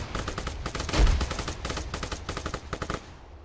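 Sustained machine gun suppressive fire in the military shooter game Arma 3, a loud rapid stream of closely spaced shots lasting about three seconds before it cuts off.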